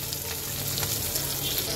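Tengra fish fry in a pan of hot oil for a fish curry with taro, giving a steady dense crackling sizzle that stays close and even throughout, with no voices.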